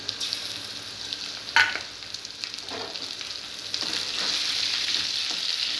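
Spice paste of onion, garlic and chili frying down in oil for a pangas fish curry, a close continuous sizzle with a few sharp stirring scrapes and a hiss that swells toward the end, no talk.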